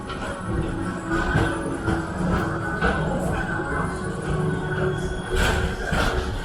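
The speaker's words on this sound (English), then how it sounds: "your express train keeps on rolling through the future" The Tomorrowland Transit Authority PeopleMover at Magic Kingdom rolls steadily along with a continuous rumble and clatter, heard up close with a faint voice over the top.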